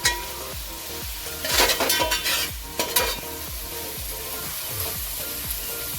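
Onions sautéing in a pan for dhaba-style methi malai paneer, a steady sizzle with a repeated rhythmic scrape of a spoon stirring against the pan and a few brighter clinks in the middle, close and with no voices.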